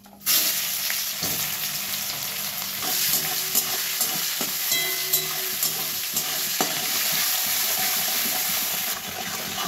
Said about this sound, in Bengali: পেঁয়াজটাও ভালো ভাজা হয়ে গেল।